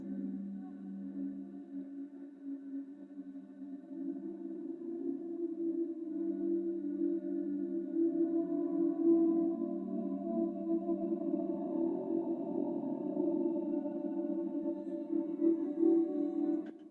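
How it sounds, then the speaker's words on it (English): A sustained mid-bass synth tone swells slowly and holds, its smooth drone trailing with a reverberant wash. "This is where we got a bit more reverb."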